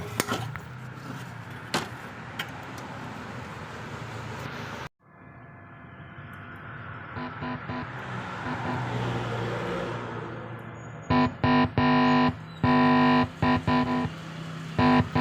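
Repeated short electronic beeps in quick bursts from about eleven seconds on, following a stretch of rumbling noise and a rising hiss.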